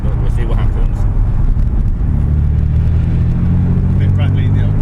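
Toyota Supra MK4 driving on a wet track at Goodwood, its engine rumbling loudly and rising as it accelerates, heard from inside the car with voices talking over the drone.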